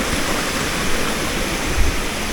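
A small waterfall in a dense forest rushes in a steady, close, full-bodied roar with no voices.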